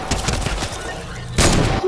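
Gunfire in a Fortnite match, a dense run of rapid shots followed by a louder burst near the end, over busy game sound with some voice underneath.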